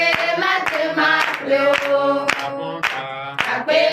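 A church congregation at a Sunday Sabbat service in Benin claps in a strong, regular beat, sharp hand strikes landing roughly twice a second beneath sustained singing voices.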